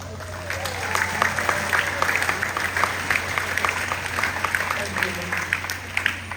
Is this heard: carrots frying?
no